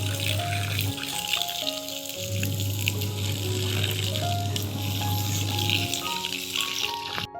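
Water sizzles and hisses as it is poured onto mustard seeds frying in a hot pan, a steady bright crackle throughout with a low sustained hum beneath and faint background activity.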